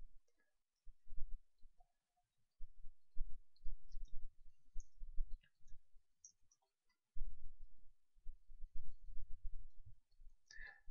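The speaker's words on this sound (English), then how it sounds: "Okay, so I'm going to double click these." Computer mouse double-clicking during 3D modeling work in Maya, heard as a few faint, sparse clicks over low background rumble with pauses between bursts.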